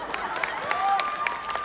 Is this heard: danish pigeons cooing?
no